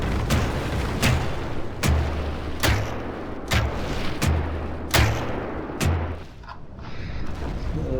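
Repeated sharp launches from a siege tower firing spears in Rome: Total War, about eight evenly spaced thuds with low booming tails over a continuous rumble of battle.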